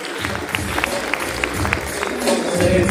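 Audience applause for a placed competitor at a bodybuilding Grand Prix award ceremony on stage, steady crowd clapping with scattered sharper claps and a murmur of voices.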